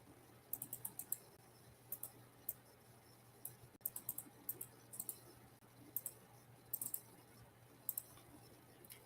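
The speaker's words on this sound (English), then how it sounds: "I needed to do some ASMR of just me typing because she says I'm an angry typer" Someone types hard and fast on a computer keyboard, making quiet, crisp clicks that come in quick bursts with short pauses, close by in a quiet room.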